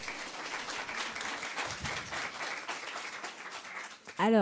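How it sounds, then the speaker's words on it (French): A conference audience at a freelancing talk claps steadily throughout, a dense, fairly even round of applause, ending with a brief burst of louder noise. "Est-ce qu'on peut l'applaudir pour la prise de parole devant ?"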